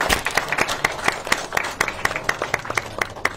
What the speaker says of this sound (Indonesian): Ini tepuk tangan untuk beliau berdua.